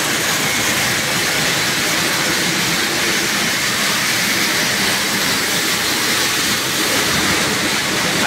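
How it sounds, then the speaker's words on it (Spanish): Almond reception machinery running, with a destemmer and a winnower blowing loose hulls off in-shell almonds, a loud, steady roaring mechanical rush throughout with no talk. "Aquí veis lo que decía de la aventadora, que va tirando toda la capota que está desprendida de la almendra."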